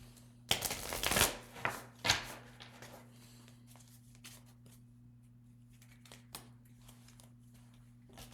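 A short flurry of crisp tarot card-shuffling riffles near the start, close and fairly quiet, then a few faint handling sounds over a low hum.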